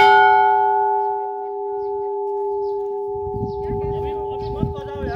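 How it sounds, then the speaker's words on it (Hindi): A large temple bell at the Ghatal Baba shrine in Dadeldhura, Nepal, struck once, leaving a loud clear ring with a long, slowly fading hum while people talk nearby. "देखिए इस घंटे की कितनी खूबसूरत आवाज़ है"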